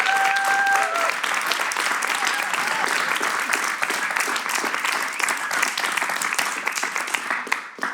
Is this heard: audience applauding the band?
yes